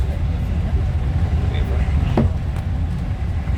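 Stagecoach bus on the 39a route between Perth Infirmary and Arbroath rumbling over a big speed bump, a steady low engine and road drone with a brief sharp jolt partway through, loud and close from inside the cabin.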